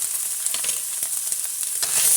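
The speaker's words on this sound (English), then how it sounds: "Stir fry a bit." Pork spring roll filling with Sichuan pepper and white pepper is stir-fried in a pan, giving a loud, dense, continuous sizzle with faint stirring clicks and no talk.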